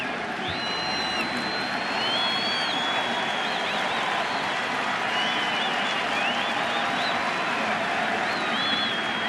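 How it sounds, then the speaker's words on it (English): A dense baseball stadium crowd at an ALCS playoff game roars and applauds steadily, a loud continuous wash of cheering with scattered whistles rising above it throughout. "This crowd is starting to come alive."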